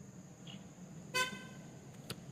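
A passing truck gives one short, clear horn toot, standing briefly above a quiet outdoor background with a fainter tap of sound just after.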